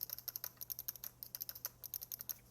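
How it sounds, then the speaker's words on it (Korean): Digital-style face buttons on a BIGBIGWON Blitz 2 game controller click sharply in a quick, irregular series of about thirty crisp presses, close and fairly quiet with no voice. "오른쪽의 버튼은 눌렀을 때 딸깍딸깍 소리가 나네요"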